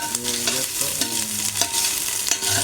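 Vegetables sauté in a pan for a ginisang monggo dish with fish, sizzling steadily under repeated scraping strokes of a stirring utensil, close and busy, with no talk.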